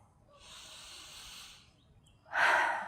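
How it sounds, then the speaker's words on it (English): A slow, deep breath drawn in as a soft airy hiss close to the mic, followed by a louder, breathy exhale near the end, otherwise quiet. "Big breath."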